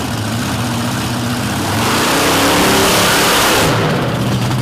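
A race car engine at a Madison, Wisconsin event accelerates hard on the track. It is loud and close, with a rough low drone that swells into a sustained roar and eases slightly near the end.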